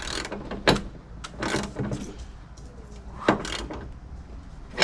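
Ratchet tightening 13 mm hood strut bolts on a 2018 Nissan Pathfinder, a few short bursts of clicking with metallic clanks between, close up.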